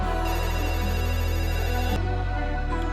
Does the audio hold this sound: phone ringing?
yes